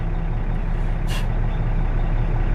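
A semi truck's air brakes release in one short hiss at a truck stop in Tomah, Wisconsin, over a steady low diesel rumble.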